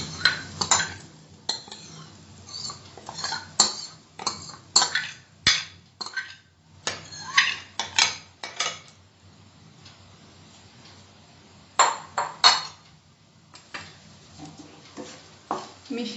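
A spoon mixes boiled dal into a pan of spices for Punjabi dal tadka, making repeated sharp scrapes and clinks in irregular bursts with quiet gaps, close-up and without talk.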